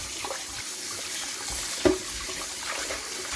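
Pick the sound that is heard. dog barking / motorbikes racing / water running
water running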